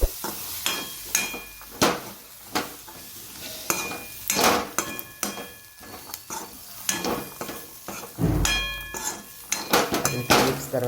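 Chickpeas are stirred into roasted masala in a pan for chana curry, with repeated scraping strokes and metallic spoon knocks against the pot over a soft sizzle.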